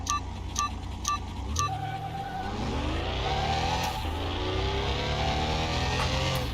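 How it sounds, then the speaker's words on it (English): A car engine in Car Mechanic Simulator 21 accelerates hard on nitro, revving up through rising gears with a sustained loud roar, preceded by a few short electronic beeps at the start. "Somebody kicked in the nitro on that car."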